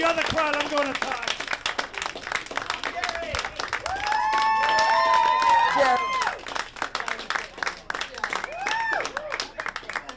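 A comedy club audience applauds a comedian at the end of a live talk-show set, with clapping and some cheering swelling for a couple of seconds while people keep talking over it.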